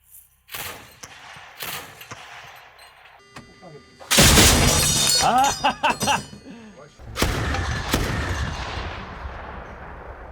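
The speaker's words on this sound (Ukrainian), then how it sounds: "30-мм пушка це просто неймовірні відчуття" The 30 mm autocannon of a BTR-4E armored vehicle booms in loud, rapid bursts with sharp cracks and echoing rumbles, preceded by scattered shots, with voices in the background.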